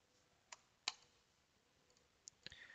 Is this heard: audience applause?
no